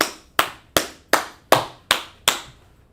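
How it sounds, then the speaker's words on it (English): Seven sharp hand claps in a slow, even rhythm, each crisp and close with a short decay, alone without voices. "Clap it up for that brother"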